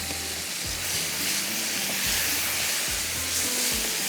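Mutton browning in a hot pan during bhunai gives off a steady, dense sizzle and crackle, close and continuous throughout, with faint low clatter of stirring underneath.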